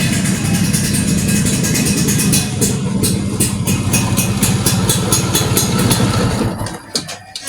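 A Vespa scooter engine runs loud and close with a steady, rhythmic low chug during a carburetor adjustment, holding its speed before dropping away near the end.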